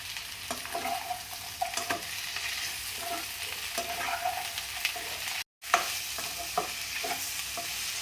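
Onions and tomatoes sauté with salt in a hot pan for a kurma dish, a continuous sizzle punctuated by scattered stirring scrapes, with a brief dropout partway through.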